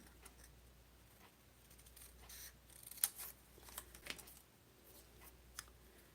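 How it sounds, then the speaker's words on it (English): Scissors making a small cut during a paper-folding craft, a few quiet close snips and clicks over faint room hum. "So we'll just do a little cut in here."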